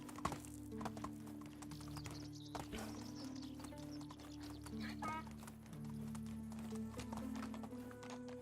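Horse hooves clopping in the medieval game Medieval Dynasty, a faint, quick run of hoofbeats with soft animal calls and ambient noise in the background, with a voice speaking briefly.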